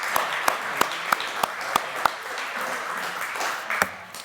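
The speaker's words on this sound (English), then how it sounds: "We can give them a round of applause." Applause from a lunchtime banquet crowd at a hall of fame event, honoring campus catering staff: a steady wash of many hands clapping, with a few sharp louder claps standing out near the front.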